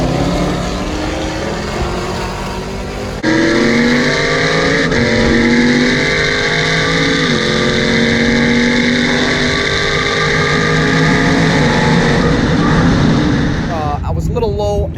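A C7 ZR1 drag racing against a nitrous Trackhawk roars close and loud, its sustained revving with rising gear sweeps and shift breaks, then fades into a final burst of higher-pitched revving.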